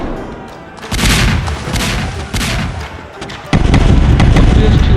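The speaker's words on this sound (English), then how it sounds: "fierce two-day-long bombardment ensued" Naval artillery bombardment in a battle between Kagoshima's shore defenders and British warships, loud heavy booms and rolling blasts in dense succession, with a sharper, sustained barrage toward the end.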